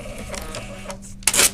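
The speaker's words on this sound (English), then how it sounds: "Now the handheld is validating and my receipt will print." Zebra RW220 handheld mobile receipt printer used with a Motorola MC75 point-of-sale handheld, a short close whirring print burst after a quiet lead-in with faint background hum.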